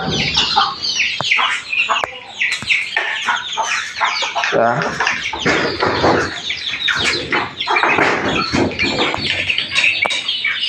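Young desi chicken chicks cheeping and peeping busily close by, a constant overlapping stream of small chirps and squawks with occasional clucks.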